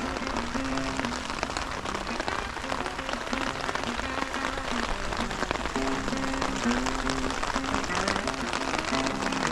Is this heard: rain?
yes